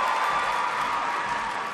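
Crowd noise fills a gymnastics arena during a women's all-around competition, a steady, fairly loud wash of murmuring and distant cheering with no distinct voices standing out.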